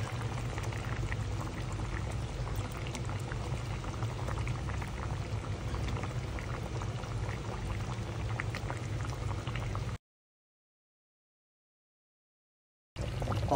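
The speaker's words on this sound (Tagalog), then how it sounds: "lagay natin yung last batch ng gata" Coconut milk going into a pot of simmering squash and string beans for ginataang kalabasa at sitaw, a dense, steady bubbling and pouring wash that runs without pause, briefly cuts to silence, then resumes.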